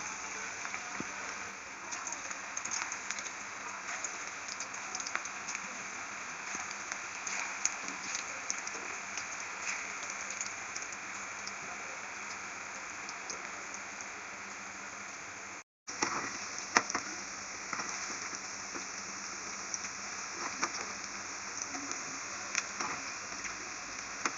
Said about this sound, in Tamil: இதில் நம்ம ஒவ்வொன்றா போட்டு நம்ம பொரிச்சு எடுக்கணும்.